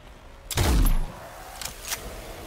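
A rifle fires a single loud shot in the open-world survival crafting game Nightingale, a sharp crack with a booming tail, followed by two fainter distant reports.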